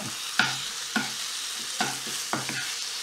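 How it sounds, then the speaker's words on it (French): Food sautéing in a pan for a bread-based dish, with a steady sizzle broken by four sharp scraping stirs spaced irregularly across a few seconds, close and clear with no voices. "on va cuire ça pendant quelques minutes. Et ensuite, on va les rebasculer par-dessus le plat. Alors, on fait revenir."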